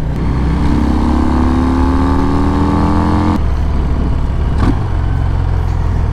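A 2020 Harley-Davidson FXDR 114 motorcycle engine revs up and rises in pitch, then cuts back to a loud, close, throbbing idle with a brief blip near the end.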